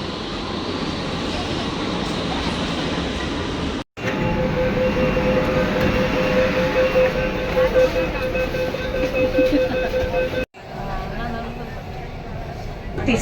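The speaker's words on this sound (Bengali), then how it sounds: "আজ আমি আমার যাত্রা শুরু করব কলকাতা মেট্রোতে।" Kolkata Metro train running on the underwater line toward Esplanade, a steady loud rumble of wheels and motors with a faint whine, broken by two brief dropouts.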